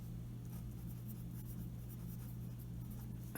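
Chalk or marker scratching on a board during a physics lecture on momentum, a faint steady scraping over a low hum with no talk.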